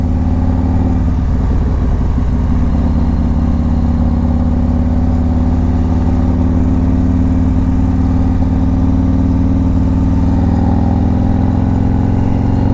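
A Harley motorcycle engine heard while riding: a loud, steady, close low rumble with wind roar that continues for the whole stretch, with no talking.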